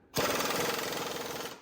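Power tool, likely an impact wrench, loosening bolts on the rear of a Chevrolet Monte Carlo, a loud, close, continuous rapid hammering rattle that starts abruptly and runs steadily for over a second.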